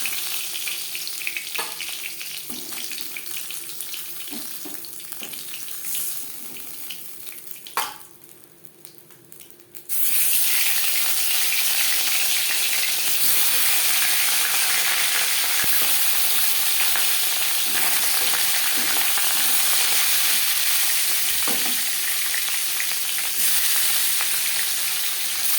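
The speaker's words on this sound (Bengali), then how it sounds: "মাছ আমি হালকা করে ভেজে নিলাম।" Rohu fish fries in oil, beginning with quieter kitchen sizzling and small clatters, then surging into a loud, steady, close frying hiss after about ten seconds.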